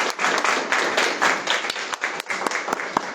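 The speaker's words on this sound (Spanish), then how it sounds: "Un aplauso." Audience applause at an event in Zacatecas, a burst of many hands clapping, fairly close and lively, with scattered individual claps standing out as it thins toward the end.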